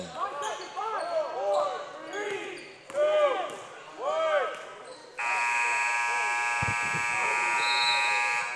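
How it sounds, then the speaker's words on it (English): A loud, sustained electronic buzzer sounds at the halftime horn of a prep basketball game between Orangeville Prep and Hillcrest Prep North, cutting in after an announcer's play-by-play and holding steady for several seconds with a brief thump beneath it. "And at the buzzer, Tyrese Samuel takes a shot"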